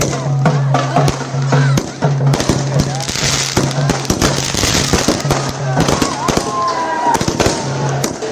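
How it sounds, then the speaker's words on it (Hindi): Rapid, irregular bangs and crackles of firecrackers going off at a celebration in India, loud and nearby, with voices and a low hum in the background. "लोग पटाखे फोड़ रहे थे"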